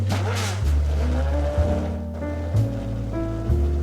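A loud car engine in the Roblox racing game Midnight Chasers revs and climbs through the gears, each shift dropping the pitch before it rises again, steady and close throughout.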